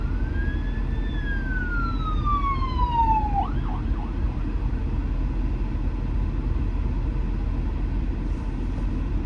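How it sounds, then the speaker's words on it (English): A distant ambulance siren wails and sweeps downward over steady traffic rumble, fading out after a few seconds while the road noise continues. "There's an ambulance coming."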